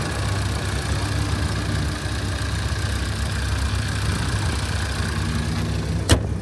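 The 2.4-liter four-cylinder engine of a 2012 Buick LaCrosse idles at a steady low hum, heard up close from beside the car with no voices, until a sharp click near the end.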